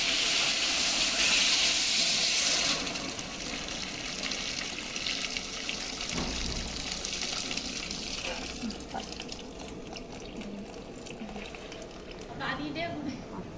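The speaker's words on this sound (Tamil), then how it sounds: "இப்போ இந்த தண்ணி இதில் ஊற்றிக்கலாம்." Water pours steadily into a pot while cooking chicken biryani for a couple of seconds, then a softer hiss and bubbling continue with faint background chatter.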